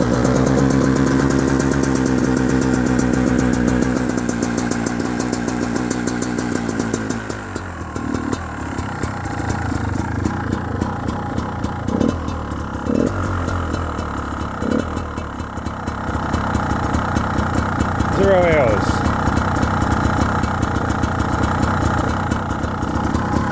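A 2017-18 Beta Xtrainer two-stroke dirt bike runs after a kick start, its engine buzzing loudly and steadily close by, then dropping to a rough idle broken by a few sharp revs and blips.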